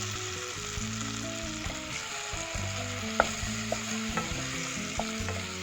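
Two chopped ripe bananas sauté in two spoons of ghee, giving a steady close sizzle broken by the scrape and clatter of stirring. No one speaks.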